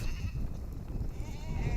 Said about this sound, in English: The goats can smell the water we are carrying in our car, and soon we are surrounded.